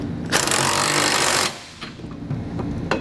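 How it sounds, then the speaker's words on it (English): A power tool with a 19 millimeter socket tightens trailer hitch nuts on a 2017 Jeep Renegade. It gives a loud, rattling impact burst for about a second, then quieter clanks and taps. "Then tighten all your nuts using a 19 millimeter socket."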